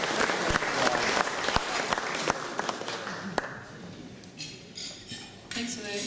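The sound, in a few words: audience applause welcoming speaker Nicola Waugh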